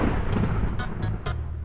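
A lightning strike in Minecraft, heard as a quick series of four sharp cracking bursts over a dense low rumble, loud and close.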